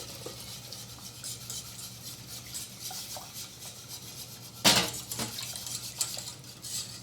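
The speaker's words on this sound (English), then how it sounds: "keep on whisking" Metal whisk stirring milk into a mac and cheese sauce in a pot, a steady soft scraping and clinking against the pot with a sharper clatter partway through.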